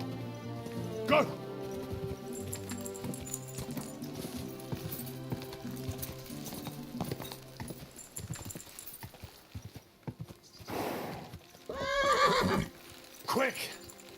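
Horse whinnies and hoofbeats in Kingdom Come: Deliverance 2, against busy game music, with a voice shouting over it near the end.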